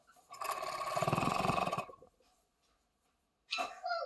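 Sewing machine stitching a footies leg piece to the bum panel: a close, fast mechanical whir running about a second and a half, stopping, then starting again briefly.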